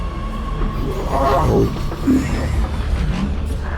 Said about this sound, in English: The monorail vanished into a tunnel.